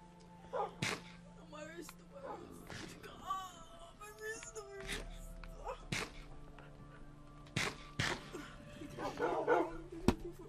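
Dog barks from the Minecraft video game ring out in short, sharp bursts spread across the clip, mixed with other game sound effects and children talking over them.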